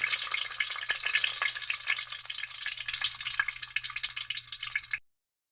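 Ginger frying in hot cooking oil, a steady close crackling sizzle with bright spattering pops throughout, no voices, cutting off abruptly near the end.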